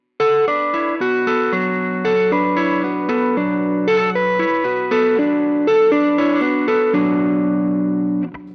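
A clean, effected electric guitar rings out a sequence of layered tapped notes forming sustained chords, with a shimmering chorus-like tone, fading at the end.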